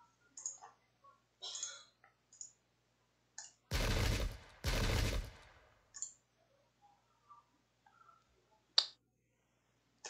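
Two heavy musket volleys boom close together, one right after the other, in the strategy game Pike and Shot at the 1632 battle of Lutzen. Scattered soft clicks and ticks sound before and after in an otherwise quiet scene.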